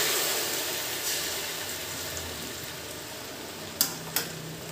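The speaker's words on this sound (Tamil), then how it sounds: "எண்ணெய் காஞ்ச உடனே நான் வந்து பண்ணியிருக்க பேஸ்ட்டை வந்து இதில் ஆட் பண்ணிடுறேன்" Ginger, garlic, green chili and onion paste fries in ghee and oil with a steady, close, broadband sizzle that slowly eases, broken near the end by two sharp clinks.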